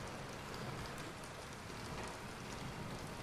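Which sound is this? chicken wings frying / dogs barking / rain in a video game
rain in a video game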